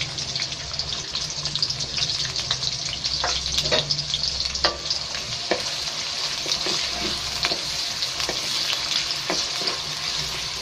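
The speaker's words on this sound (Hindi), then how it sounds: "मैं इसे अब मैं एक प्याज जो मैंने बारीक बारीक काट लिया था ऐड कर रही हूँ।" Finely chopped onion frying in ghee in a kadai gives a bright, dense sizzle close by, punctuated by sharp scrapes and taps of a spoon stirring against the metal.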